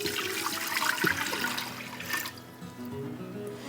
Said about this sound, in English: I want to add a little bit of water to the bottom